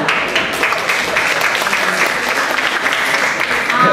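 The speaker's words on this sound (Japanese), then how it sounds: "拍手がある。" A crowd applauds at a Kobe street dance performance, dense continuous clapping held at a steady, fairly loud level for several seconds with voices blended in.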